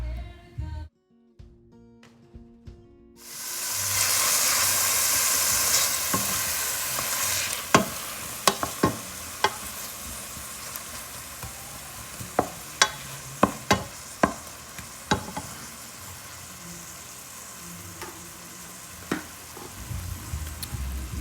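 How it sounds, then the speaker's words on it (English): Onion, green peppers and celery sautéing in a pan for jambalaya, a steady close sizzle starting after a quiet moment, broken by sharp clinks and scrapes of a stirring spoon against the pan. "onion, green peppers, celery. And we're gonna cook that up until they're about translucent."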